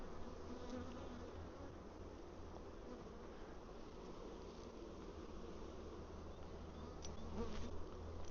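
Honey bees at an open hive, mid-inspection with nectar coming in, make a dense, steady buzz close by that continues throughout without speech.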